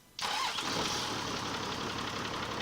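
A heavy truck's engine cranks and fires up in the MudRunner off-road game, bursting on suddenly and settling into a loud, continuous rumbling idle.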